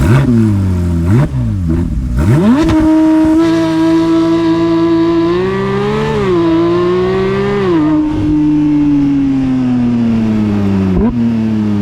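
Porsche GT3 with a straight-pipe exhaust revs hard and close, a loud sustained engine note rising and dipping over several seconds with a few sharp blips at the start and a short drop near the end.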